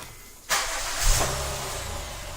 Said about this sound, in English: we still have the ability to start the vehicle by 3-press on the OEM remote